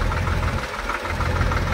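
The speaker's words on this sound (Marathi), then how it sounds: "आमचे ट्रॅक्टर जरा पुढे घेतलेला आहे" A decorated tractor's engine idles near a JCB at a village drain-cleaning site, giving a loud, steady, close rumble with a knocking pulse and no voices.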